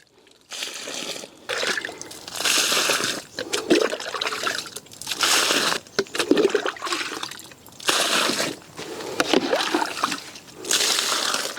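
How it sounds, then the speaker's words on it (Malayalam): Liquid poured into a pit dug around a nutmeg tree, in repeated loud, close gushing bursts separated by short pauses. "ഞാനിപ്പോൾ കുഴിയിലാണ് ഒഴിച്ചു കൊടുക്കുന്നത്"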